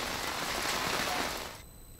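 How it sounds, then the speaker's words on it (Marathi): Rain pours steadily around Manmad as a dense, continuous hiss that fills the short stretch, then thins slightly at the end. "आपण ही दृश्य बघतोय मनमाड आणि परिसरातल्या पावसाची ही दृश्य आहे।"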